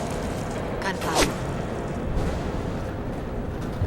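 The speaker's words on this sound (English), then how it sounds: "Gunfire." Distant gunfire in the Mass Effect 2 video game: two short, sharp bursts crack out just after the first second, over a constant low ambient rumble.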